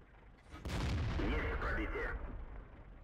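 A tank cannon fires in World of Tanks: one loud, sharp boom that rolls into a sustained rumbling tail lasting about a second and a half before easing off under a low background hum.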